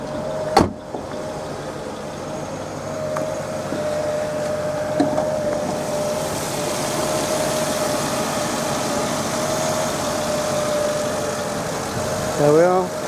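A 2008 Mercedes SLK 55 AMG with its 5.5-litre V8 idles steadily nearby, a constant low rumble with a brief click near the start and a short rise toward the end.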